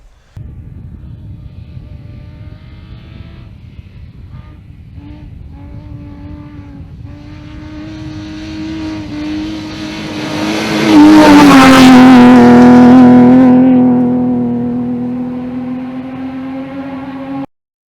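A V6 rally car engine idles with a burbling hum, then revs hard to a loud rising roar that peaks and slowly falls back toward idle, close up and with no talk.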